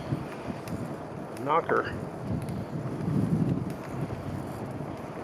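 Wind blows steadily across the microphone of a rider cycling into a headwind on the way into Gulf State Park. Low roaring gusts run under someone speaking briefly throughout.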